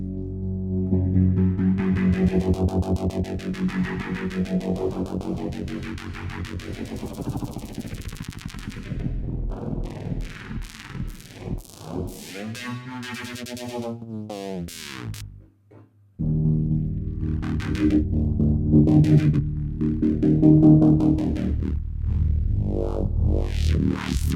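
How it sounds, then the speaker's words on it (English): A loud, sweeping synth bass with a wobbling, rising and falling tone, drenched in reverb and chorus; it briefly cuts out before returning at full strength. "we get that reverb sound."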